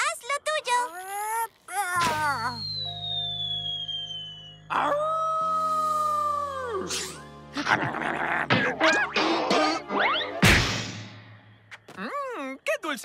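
Green howler creatures in a Spanish-language cartoon let out a chorus of wailing, rising and falling howls and moans, loud and close, overlapping with sustained music tones and bursts of animated cartoon effects.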